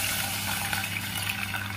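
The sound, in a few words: water being poured into a cooking pot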